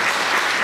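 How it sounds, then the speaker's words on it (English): A big round of applause for the panelists at the Silicon Valley Youth Tech Day, a dense, steady wash of many hands clapping at once, loud and close, filling the whole short moment with no voice on top. "please give a big round of applause to our amazing panelists today"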